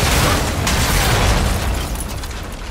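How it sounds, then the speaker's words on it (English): A cruise missile strike in the video game Call of Duty Modern Warfare II, a loud, sustained rumbling explosion with crackling debris that slowly fades. "Friendly cruise missile approaching target."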